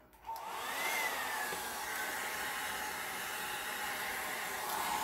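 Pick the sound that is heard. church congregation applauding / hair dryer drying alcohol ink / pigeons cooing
hair dryer drying alcohol ink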